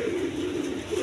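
A pair of Khormona pigeons sitting on two eggs gives a soft, steady cooing, close and low, in one brief unbroken stretch.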